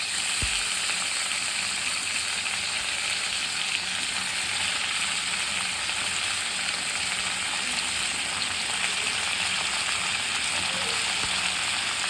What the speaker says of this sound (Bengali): টমেটোটা দিয়ে আবারও ভালো করে এভাবে মিক্স করে নেব।